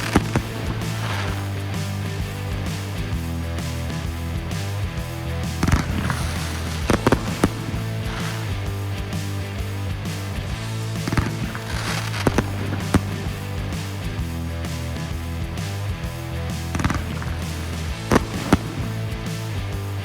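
An Elite Fireworks large consumer cake priced at $105 fires a steady barrage over about twenty seconds, with repeated launch thumps and crackling bursts that stay dense and continuous, with occasional louder pops.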